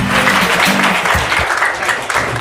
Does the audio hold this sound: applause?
yes